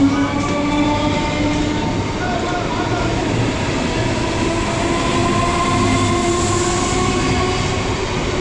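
A passenger train on the Sealdah–Krishnanagar line near Birnagar rumbles loudly and steadily throughout, with a continuous rolling roar of wheels and carriage noise, up close, from inside or beside the moving train.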